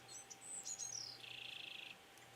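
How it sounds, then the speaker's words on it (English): An American robin sings a bright, high-pitched phrase of rising and falling whistled notes, ending in a rapid buzzy trill, with faint background hum in a backyard. "I hear robins"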